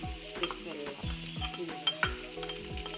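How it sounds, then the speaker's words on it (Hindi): Green chillies fry in a hot pan under a spoon stirring them, with a busy sizzle and repeated scraping, clattering strokes in an uneven rhythm; close and alone, no talking. "अब सब चीज़ों को अच्छे से मैं भून लूँगी"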